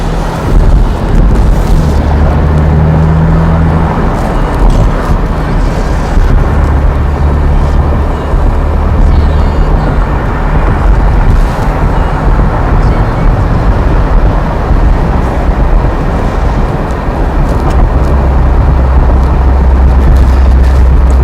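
A 2018 Mercedes-Benz SL450 cruising on a test drive, with steady low road and engine rumble and wind noise filling the cabin continuously at a loud, even level.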